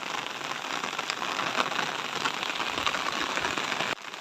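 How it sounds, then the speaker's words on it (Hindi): Steady rain falls and patters on a surface, a continuous dense hiss with occasional louder drops, no voices. "देखो पानी गिरे फिर चालू हो गए।"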